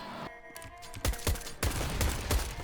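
Gunshots in the video game CS:GO, a handful of sharp separate shots and short bursts after a quieter opening, close and punchy, with no talk.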